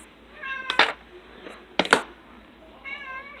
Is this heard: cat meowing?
yes